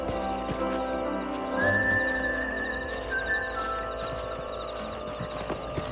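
A horse in the Red Dead Redemption video game whinnies once, a rising then falling neigh, over steady clip-clopping hooves and low game ambience, fairly close and clear with no talking.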